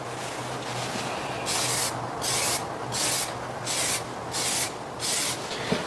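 Glossifier coating is sprayed from an aerosol can over Plasti Dip on a Lotus Elise's gold wheels, four evenly spaced hissing bursts of about half a second each, close and loud, with short pauses between them.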